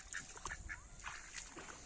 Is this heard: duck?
yes